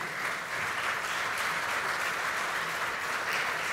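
Audience applause greeting the arriving head of government at a university event, a dense steady clapping that fills the whole stretch at even loudness, with no pauses.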